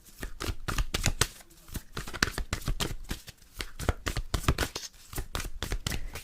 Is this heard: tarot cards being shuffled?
yes